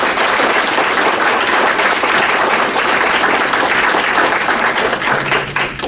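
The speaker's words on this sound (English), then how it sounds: "If you would just give everybody an applause" Applause at a Memphis Astronomical Society 70th anniversary gathering, a full room clapping steadily and loudly for the whole stretch, easing slightly at the end.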